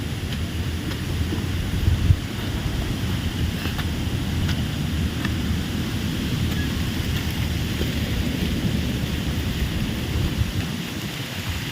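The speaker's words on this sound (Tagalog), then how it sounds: "Malakas pa rin guys yung hangin." Steady, strong wind roars and buffets the microphone throughout on an open farm field, a constant rushing noise with low rumbling and no voices.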